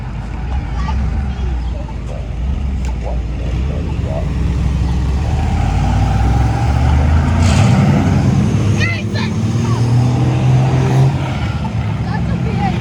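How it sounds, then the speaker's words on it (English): A BMW car engine running at an outdoor car show, a steady low rumble with a swell of revving near the middle. It is heard through crowd noise and people talking close by. "That's a BMW, if I'm not wrong. Maybe. Sounds like one."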